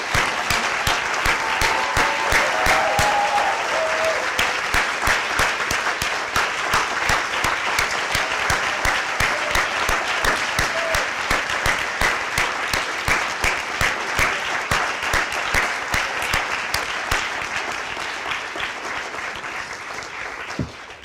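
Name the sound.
audience applause for conference volunteers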